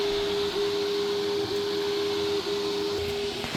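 A Sovol SV07 3D printer grinds steadily while printing, a loud, close, continuous mechanical whine with a constant tone and faint periodic dips, alone without voices.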